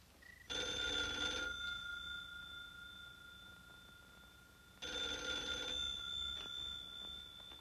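A telephone rings in two long, loud bursts separated by a pause of several seconds, heard alone without talk.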